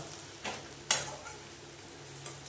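Radish frying in browned spices for a fish curry gives a faint, low sizzle, broken by a couple of sharp spoon or pan clinks.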